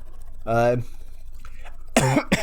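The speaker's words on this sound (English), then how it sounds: "Sorry, cough." A couple of short, voiced coughs close by, separated by a brief quiet gap.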